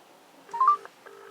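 Touch-tone dialing beeps as a phone calls a car GPS tracker, a short burst of steady tones at close range with no talking.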